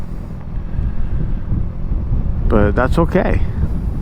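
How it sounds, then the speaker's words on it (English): Strong wind buffets the microphone outdoors in a steady, rough low roar, with someone briefly speaking over it near the end. "it's scary windy out here"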